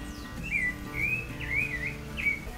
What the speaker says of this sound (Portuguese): é sabiá, né?